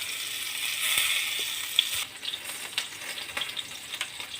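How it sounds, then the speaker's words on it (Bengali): Eggplant fries in hot oil in a wok, an intense close sizzle that drops abruptly halfway through, leaving quieter crackling with scattered pops and soft stirring clicks. "কড়াইয়ে তেলটা গরম হয়ে গেছে, বেগুনটা ছেড়ে দিচ্ছি। বেগুনটা ভালো করে ভেজে নেব।"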